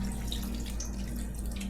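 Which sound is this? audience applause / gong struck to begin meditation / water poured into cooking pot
water poured into cooking pot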